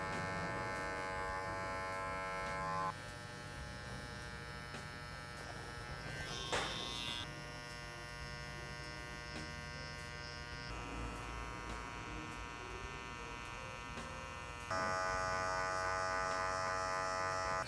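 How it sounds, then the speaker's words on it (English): Open hair clipper buzzing steadily while trimming and tapping through a short textured mullet with taper, a continuous close electric drone that shifts in pitch as the blade picks and taps at the hair, with no talk. "And an open clipper, again, picking, tapping really"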